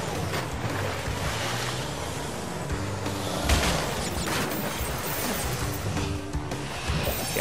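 Water scooter skimming over waves in Crash Bandicoot 3 Remastered, a constant rushing splash and engine wash with a few louder surges, loud and steady.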